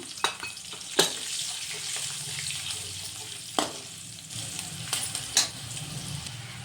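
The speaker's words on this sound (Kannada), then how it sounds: "ಸೊ ಈಗ ಇದನ್ನು ನಾವು ನೀಟಾಗಿ ಫ್ರೈ ಮಾಡ್ಕೊಂಡಿದ್ದೀವಿ." Ingredients with green chillies frying in a pan for gooseberry chitranna, a steady soft sizzle with a few sharp utensil clicks and scrapes scattered through, no voices.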